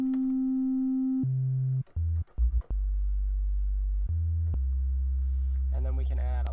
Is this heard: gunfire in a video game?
no